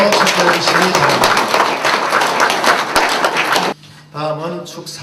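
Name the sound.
audience applause at inauguration ceremony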